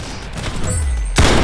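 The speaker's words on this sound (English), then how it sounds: "Oh, I have the minigun." A minigun fires in the Roblox game Arsenal over a rumbling game background, ending in a sharp, loud burst near the end.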